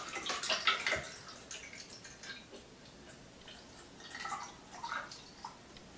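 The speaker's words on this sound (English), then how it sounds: "we're going to start by putting the D76 that I made on January 15th, 2019 into the development tank" D76 developer is poured into a film development tank, giving irregular trickles, drips and small splashes. They are louder at first and then thin to faint ticking drops. No one talks.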